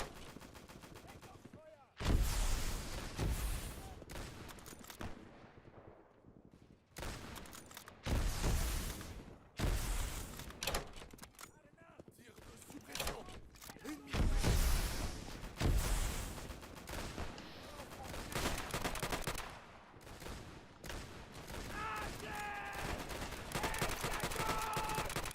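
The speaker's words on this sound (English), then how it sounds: "That machine gun did, that I'm hearing." Machine gun fire in the video game Easy Red 2, bursts of loud sharp rattling shots broken by brief pauses, mixed with heavier booms and a steady battlefield din.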